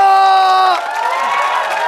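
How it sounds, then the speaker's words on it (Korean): A loud studio audience at a Korean TV comedy show cheers and claps together, the noisy roar following a brief sustained tonal note at the start. "박수 한번 주세요."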